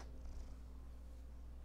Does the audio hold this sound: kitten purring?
yes